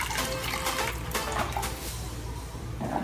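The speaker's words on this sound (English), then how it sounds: "After that, pour the water until it boils." Continuous rushing water pours steadily into a pot, close by, a full splashing stream with no pauses.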